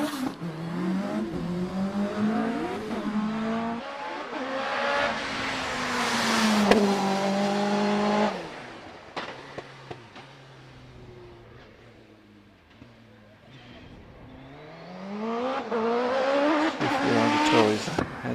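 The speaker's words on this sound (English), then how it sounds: "Pete Tatum then in the OMS 25, this one with a 1300cc engine behind the driver, heads off the line." OMS 25 hill climb race car with a 1300cc engine behind the driver, accelerating hard off the line at a speed hill climb, its loud engine climbing through gear changes, fading into the distance, then another car rising loudly again.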